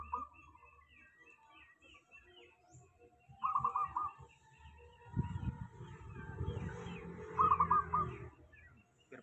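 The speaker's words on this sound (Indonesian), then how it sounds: "Dia masih duet sama perkutut sayang suara ngebas." Zebra dove (perkutut) cooing in short repeated phrases, fairly close, over a low rumbling background with other faint bird chirps.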